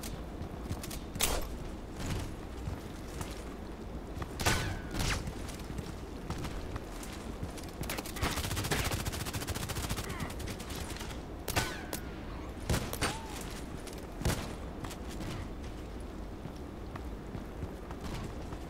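Repeated gunshots crack out at irregular intervals over a steady, busy background of in-game ambience and movement during a Contract Wars match on the Bridge map, fairly faint overall.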